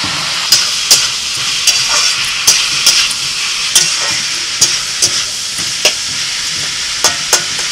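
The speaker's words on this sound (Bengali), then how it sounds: "পেঁয়াজটা দিয়ে একটু নাড়াচাড়া করে" Chopped onion sizzling in hot oil in a home kitchen pan, with a steady frying hiss broken by repeated sharp scrapes and knocks of a spoon stirring it, close and loud.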